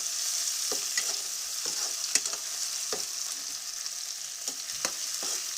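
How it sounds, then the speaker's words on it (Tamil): Tomato, green chilli, onion, carrot and beans sautéing with salt in a pan for wheat upma make a steady close sizzle, broken by intermittent scraping stirs and light clicks of a spoon, without speech. "நல்லா வதங்கி வரணும் இந்த தக்காளி அதாவது பச்சை மிளகா வெங்காயம் கேரட் பீன்ஸ் இதெல்லாம் வதக்கி வரணும்"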